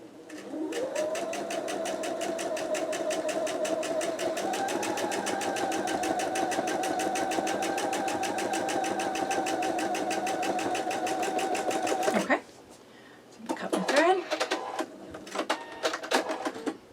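A sewing machine runs steadily for about twelve seconds while stitching quilt block fabric, with a rising whir at the start, then stops, followed by a few brief handling noises.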